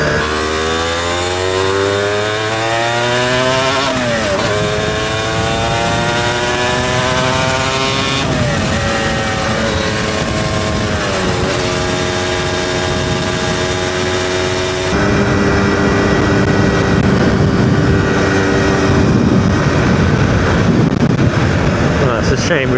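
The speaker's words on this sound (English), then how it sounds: "Engine braking is quite audibly noticeable." Motorcycle engine braking while riding, the engine's tone repeatedly winding down in falling sweeps between gear changes, loud and continuous under rushing wind and road noise.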